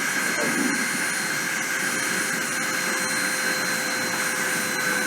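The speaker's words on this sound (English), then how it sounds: "I'm going to start the spindle and start the deposition." A deposition machine's spindle spinning up gives a steady, loud broadband whir with a constant high whine, unbroken from start to finish and with no voices.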